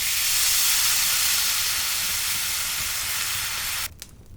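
Red wine poured into a hot pan with onion, garlic and crushed red pepper gives a strong, bright steamy hiss and sizzle that holds loud and steady for several seconds, then cuts off abruptly.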